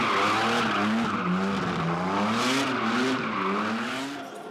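Sports cars skidding at an outdoor car show in Fordon, Bydgoszcz, a loud sustained wavering tire squeal with engine roar underneath, fading slightly at the end.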